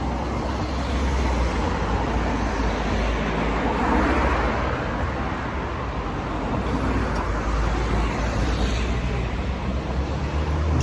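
Steady car traffic circling a roundabout on a Marrakech avenue: a continuous broadband rumble of many passing vehicles, constant and moderately loud with no clear individual pass-bys, heard alone without talk.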